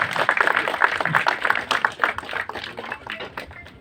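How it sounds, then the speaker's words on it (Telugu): An audience claps in a dense, steady burst that slowly thins and fades, at a Telugu cinema birthday celebration where someone is being honoured on stage. "మీరు మర్చిపోయారు చప్పట్లు"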